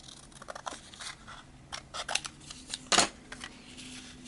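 Scissors cutting paper to make a junk journal pocket, with a series of soft, close snips and rustles and one sharper crunching cut near the end, fairly quiet.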